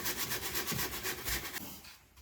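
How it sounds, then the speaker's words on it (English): Hand sanding with 120 grit sandpaper on a DIY Christmas craft piece, a steady close scratchy rubbing in quick back-and-forth strokes that fades out near the end. "with 120 grit sandpaper, it's smoothing right out"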